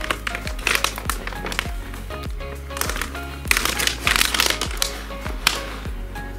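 A plastic zipper pouch of jasmine green tea bought at Costco is handled up close, giving repeated crisp crinkles and rustles in irregular bursts over a steady low rhythmic thump.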